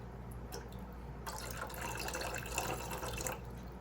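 Distilled water pours steadily into a container for soap making indoors, a continuous close splashing trickle that grows fuller partway through and stays fairly quiet.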